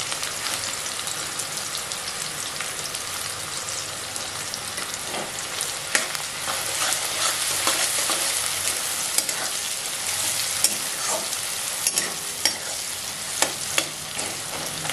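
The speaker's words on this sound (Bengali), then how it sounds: "পেঁয়াজটাকে একটু লাল করে ভেজে নেব" Onions fry with turmeric powder in a pan for chowmein, sizzling steadily and loudly throughout, with occasional scraping stirs and small pops, close by.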